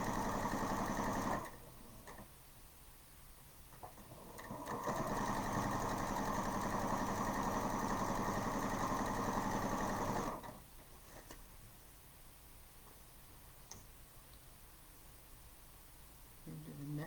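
A sewing machine stitches a seam in two close runs, a short one and then a longer steady whirring burst, separated by quieter gaps of faint room noise.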